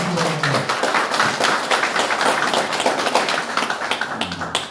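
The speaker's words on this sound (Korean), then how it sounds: "여러분 큰 박수 부탁드립니다" An audience at a Gyeonggi provincial party chapter meeting claps steadily through the whole stretch, a dense patter of hands fairly close by with no voices over it.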